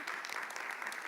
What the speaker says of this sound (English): Indeed, she definitely deserves a clap.